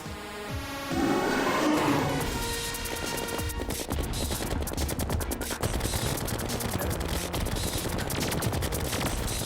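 A minigun in Terraria fires in a rapid, steady stream of sharp shots that runs continuously under upbeat game music.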